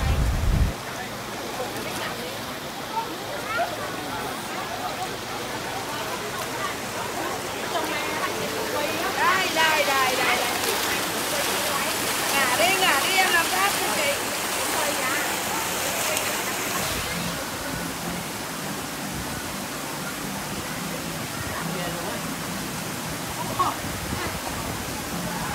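A clear mountain stream at Hói Dừa near Hải Vân Pass rushes steadily, a broad unbroken water roar lasting throughout, swelling slightly in the middle.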